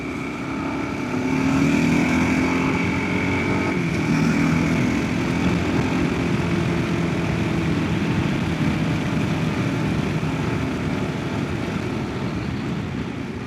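Kawasaki KLR motorcycle engine droning steadily while riding on a road, a continuous moderately loud hum with wind rush and no clear speech.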